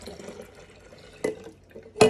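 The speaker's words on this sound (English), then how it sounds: "And pour the lemon juice." Lemon juice is poured into hot syrup for homemade lemonade, giving two short liquid splashes against a quiet background.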